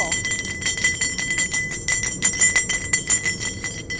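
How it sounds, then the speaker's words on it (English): A small forged metal jingle bell jingles rapidly and continuously, bright and close, with a voice faintly underneath. "Oh, you turned it into a jingle bell."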